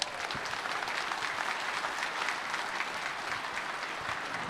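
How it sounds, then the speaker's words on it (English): Sustained crowd applause at a Barrett-Jackson Scottsdale collector car awards ceremony honoring a hot rod, dense and even in level, with no voices standing out. "So please give that car a big round of applause"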